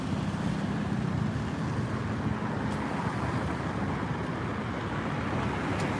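The flooded Loei River flowing fast right beneath a bridge, a steady broad rush of churning water, loud and continuous, with some wind buffeting the microphone.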